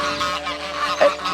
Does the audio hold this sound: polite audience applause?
no